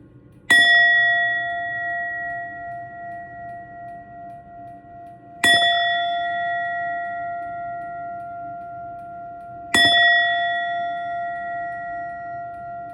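A golden Nepalese-made brass singing bowl is struck three times at even intervals, each strike ringing out clear and bright before slowly fading.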